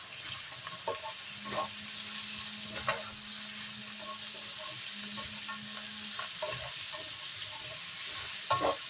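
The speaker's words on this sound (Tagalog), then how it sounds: "Halo natin." Sotanghon noodles with carrots being stir-fried in a pan, a steady low sizzle with scraping stirs and occasional utensil knocks throughout, close by and fairly quiet.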